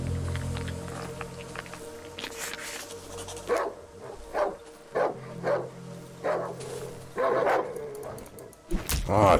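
Dog barking in the horror video game Darkwood: a string of sharp, separate barks and yips spaced a second or so apart, fairly close and loud, with a whimpering rise at the end and no talk over it.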